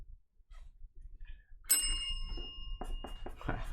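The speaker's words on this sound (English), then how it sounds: "He really didn't want to press that bell" A bell pressed once during a sports card break, a bright metallic ding with a ringing tail that carries on under clattering handling noise and background bustle.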